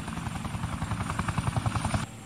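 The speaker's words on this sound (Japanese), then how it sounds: "新聞社の活動に警視庁のヘリコプター使うなんて何考えてるんですか" A Tokyo Metropolitan Police helicopter in the video game Yakuza 4 flies nearby, its rotor thumping in a fast, steady beat before the sound drops away abruptly at the end.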